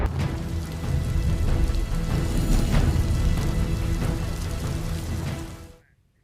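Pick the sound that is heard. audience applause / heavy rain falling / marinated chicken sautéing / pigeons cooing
heavy rain falling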